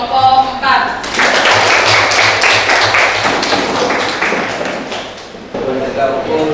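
Classroom applause for a student group presenting on legal norms, a dense wash of many hands clapping from about one second to five and a half seconds, loud and sustained, with faint talk and tones before and after.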